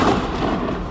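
A hunting rifle fires a single loud, close shot at a chamois in rugged New Zealand high country, a brief booming crack that fills the whole moment.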